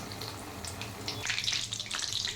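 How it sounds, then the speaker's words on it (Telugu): Batter-coated capsicum bajji deep-frying in hot oil, a steady, crackling sizzle that swells slightly partway through, fairly quiet and close, with no voices. "ఆయిల్ ఎన్ని పడితే అన్నీ మంచిగా ఫ్రై చేసుకోవాలండి"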